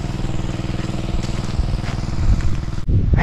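A motorcycle-like engine runs steadily and loudly up close, chugging evenly, then cuts off abruptly near the end.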